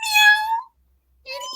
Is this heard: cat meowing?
yes